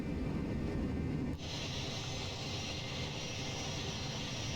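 Four jet engines of a C-17 Globemaster roar steadily during takeoff in Microsoft Flight Simulator 2020, a loud continuous rumble that shifts once into a brighter, hissing whine and then holds with no voices.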